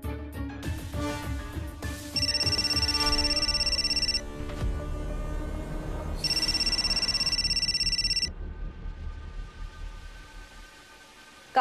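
An old-style telephone bell rings in two long bursts over background music in a tense late-night scene from a Marathi TV serial.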